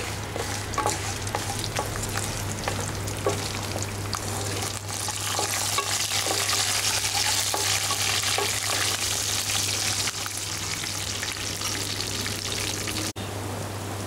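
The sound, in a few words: dried and green chillies frying in oil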